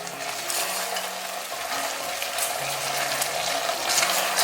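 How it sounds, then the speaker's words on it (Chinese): Chicken pieces stir-fried over high heat with a splash of yellow rice wine, reducing in a clay pot, give a dense continuous sizzle with scraping and turning noises close up, with no speech. "淋上黄酒之后呢，调大火收汁，翻动一下，让酱汁完全包裹住鸡肉。"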